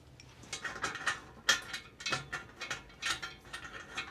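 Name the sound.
tightening bolts on grow light frame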